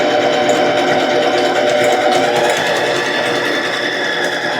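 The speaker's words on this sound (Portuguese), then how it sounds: "Agora a gente só segue com a costura." A sewing machine stitches a placemat in one continuous, even whir, close and loud throughout with no pause.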